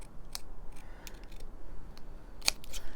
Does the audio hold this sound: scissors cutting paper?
yes